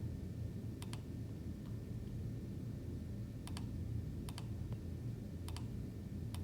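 Soft, quiet button presses on a calculator, several paired clicks spaced irregularly, faint against a low background hum.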